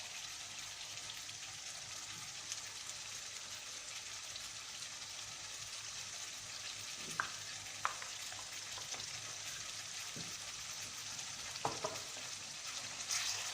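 Beef cannelloni filling with tomato sauce sizzling and being stirred in a pan, a soft continuous hiss with a few faint scraping clicks of the utensil.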